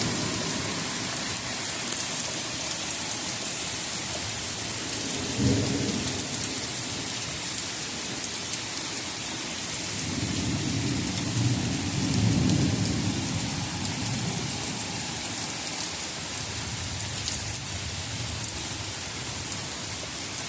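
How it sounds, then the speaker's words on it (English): A brief pop-up thunderstorm pours steady rain onto surfaces nearby while low rolling thunder rumbles twice in the middle distance, the second roll longer and heavier. "Just a quick pop-up thunderstorm."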